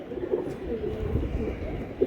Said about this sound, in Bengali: এটা ফকিরগুল কবুতর পাকিস্তানি